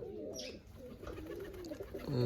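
Pigeons coo near a string-operated window trap: a few soft, low, rolling coos close by, with a faint chirp early on and a fuller coo at the end, and no talking.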